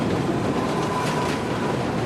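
A subway train rolls across Manhattan Bridge in New York, a dense, continuous rumble and rattle of heavy rail cars at steady loudness with no talk.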